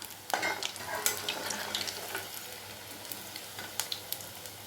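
Soya chunks deep-frying in hot oil for soya 65, a quiet, continuous bubbling sizzle with intermittent sharper crackles and light clinks of a utensil stirring, no voices.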